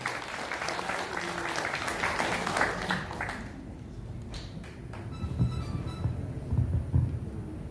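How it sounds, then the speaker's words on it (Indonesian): Sustained applause from a crowd, loud at first, then thinning into scattered claps and background murmur. "Tepuk tangan sekali lagi."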